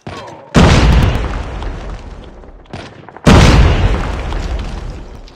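Two heavy grenade blasts in a video game shooter, each a loud sudden boom with a long rumbling decay, the second following about three seconds after the first.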